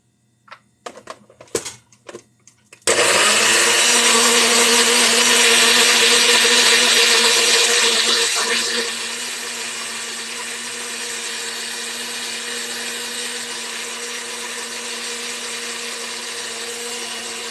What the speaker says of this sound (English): Now we just let that go until the garlic is pulverized.